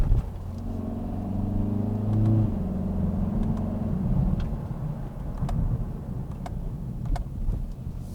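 A 2020 Kia Forte 5 GT compact hatchback driving with its engine humming steadily inside the cabin, pitch rising as it accelerates and then briefly dropping during quick gear shifts, with road rumble and light clicks throughout.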